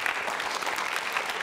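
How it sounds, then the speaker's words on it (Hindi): An audience claps steadily and densely throughout this short stretch, with no voices standing out over the applause. "तालियां जोरों से बजाइए मेघा के लिए"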